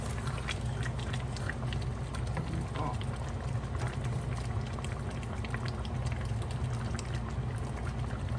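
Vinegar poured into a pot of pork lechon paksiw, a steady liquid rush over a constant bubbling simmer that fills the whole stretch without a break.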